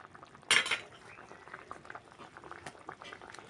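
Fish and okra curry bubbles softly in a pot, a sharp clatter of a utensil against the pan opening the quiet simmer.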